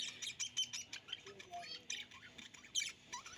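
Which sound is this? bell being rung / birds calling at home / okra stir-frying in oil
birds calling at home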